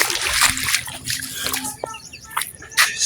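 Someone wades through a path flooded with seawater among houses, water splashing and sloshing in uneven bursts close by, with a faint bird call in the background.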